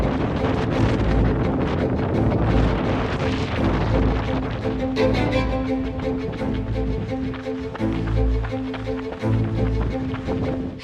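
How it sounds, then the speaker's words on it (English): Strong Icelandic wind buffets the microphone during a long city run, a loud, continuous roaring rumble with gusty surges and steady thumping footfalls underneath. "to get a preview of the Icelandic wind"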